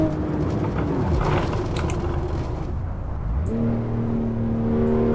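Porsche Macan Turbo SUV engine in the Assetto Corsa racing game, a loud droning tone that drops in pitch around the middle, then climbs and holds steady as the revs rise again, with no talking.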